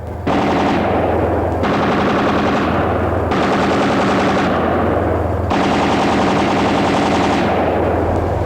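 A 12.7 mm anti-aircraft machine gun mounted on a T-72 tank fires four long sustained bursts of rapid rattling shots, loud and close, with short gaps between bursts.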